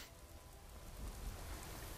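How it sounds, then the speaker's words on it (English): Steady rain falling in the game Skyrim, a soft, even hiss with low rumble underneath, faint and continuous with no other sounds. "Why is it always raining?"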